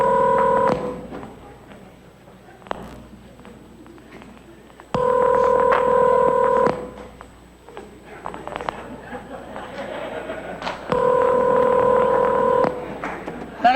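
A telephone number is dialed, with three loud clusters of steady two-tone beeps a few seconds apart and quieter background chatter between them, close and clear.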